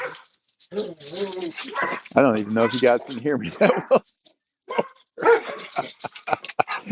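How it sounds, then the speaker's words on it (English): Several dogs bark and yip repeatedly nearby while a person talks over the commotion. "we have a whole bunch of dogs barking"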